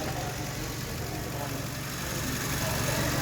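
An engine carbon cleaning machine runs on a 2 litre Ford Focus in a workshop, making a steady, unbroken droning hum that blends with the car's engine idling underneath.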